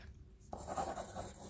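Pencil sketching on paper, faint close scratchy strokes starting after a brief quiet moment and continuing in quick bursts, intimate and soft with no voices.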